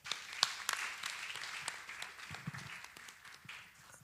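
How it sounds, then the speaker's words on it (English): Quiet, scattered clapping from a small group of students at a school freshers orientation, applauding a fellow student, uneven and thin with some claps louder than others and fading out toward the end. "Let's clap for her."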